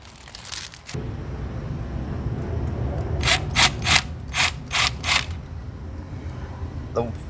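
Screws being worked out of metal bracket plates on a water ripple glass wall sconce fixture, a run of short ratcheting clicks and squeaks up close, with a person talking throughout.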